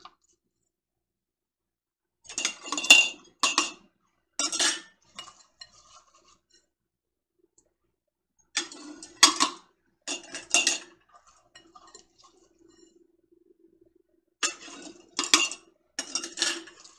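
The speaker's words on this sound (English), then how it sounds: "what I do is I just measure 1/2 cup of your vegetable into each quart jar" Half cups of thawed vegetables are scooped into quart jars for ham and lentil soup, in three separate bursts of clinking, rattling and tapping against glass with near silence between them.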